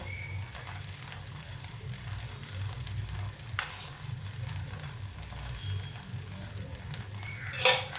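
Oil sizzles steadily as poha and semolina batter fries in a kadhai, a close, continuous crackle with light stirring and a brief metallic clink near the end.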